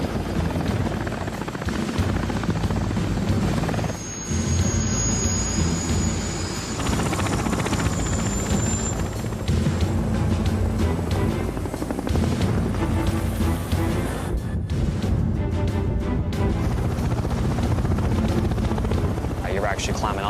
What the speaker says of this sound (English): We have 2 Apache helicopters and 4 Chinook helicopters coming into our 4 points here.